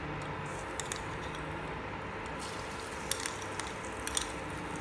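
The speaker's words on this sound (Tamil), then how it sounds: "சிக்கன் பொரித்து அதே பேனை அடுப்பில் வச்சுருக்கேன். இப்போது அதில் ஒரு 50 கிராம் பட்டர் சேர்த்துக்குங்க." About 50 grams of butter melts in a hot pan still greasy from frying chicken, giving a quiet, steady sizzle with faint crackles and small pops throughout.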